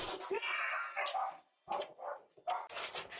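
Puppies on a house porch confronting a bear bark in short, loud, close bursts with yips and whimpers, separated by brief pauses.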